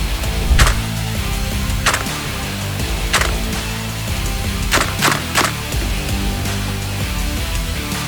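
Pistol shots ring out at a target with a Sig Sauer ROMEO5 1x20mm red dot sight, six sharp cracks at uneven intervals with a close pair near the end, over steady outdoor background noise.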